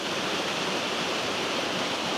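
A waterfall pours down over rocks in a continuous, even rush of falling water, a dense steady hiss and roar with no breaks, fairly close and loud throughout.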